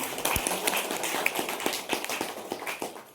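A small group claps in a quick, uneven patter, moderately close, with no voices over it.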